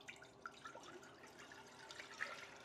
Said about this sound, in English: Pour it in to my pot over here.